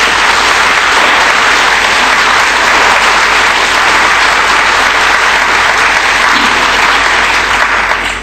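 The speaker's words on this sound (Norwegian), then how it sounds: "Så jeg synes vi skal si de til ungdommen en skikkelig applaus" Loud, dense applause from a large audience honouring young people at a Norwegian health ministry event, steady and sustained for the whole stretch before trailing off at the very end.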